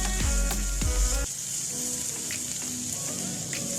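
Onion and green chilies stir-fried in a pan for chicken jalfrezi, seasoned with black pepper and salt: a steady close sizzle, with a few heavy knocks and scrapes of stirring at the start, then an even crackle.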